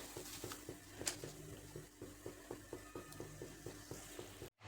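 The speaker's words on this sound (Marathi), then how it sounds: "सर्व अशा प्रकारे आपल्याला तळून घ्यायचे" Wheat-flour khari shankarpali fry in hot oil with a steady bubbling sizzle, broken by regular rhythmic scraping strokes of stirring, close and fairly quiet.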